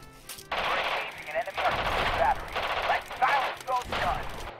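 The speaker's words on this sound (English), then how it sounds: "Don't move until the barrage lets up." Artillery barrage and gunfire in the WW2 strategy video game Radio General, heavy repeated booms and rapid bursts filling the clip, with a voice talking briefly underneath.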